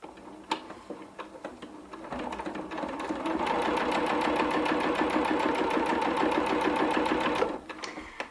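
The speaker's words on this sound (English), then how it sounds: "So I'm going to do a 1/4 inch rolled hem all the way around." A sewing machine runs a quarter-inch rolled hem on Monolite hammock mesh: a few starting clicks, then about five seconds of fast, rhythmic stitching ticks, followed by a brief stop.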